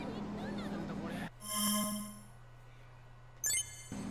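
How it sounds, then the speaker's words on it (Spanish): Mobile phones chiming with alert tones in Disaster Report 4 Plus Summer Memories, a sustained ringing tone followed by a brief higher chirp, after a stretch of talking. "Todo el mundo le suena el móvil."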